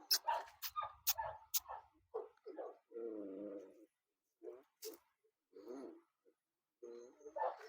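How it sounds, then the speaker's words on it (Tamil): A young Bully Kutta, an 11-month-old female of the heavy mastiff-type breed, gives a few sharp barks and then softer whimpering and yipping noises in short, intermittent bursts at close range. "இது ரொம்ப சாதுவான நாய்ங்க"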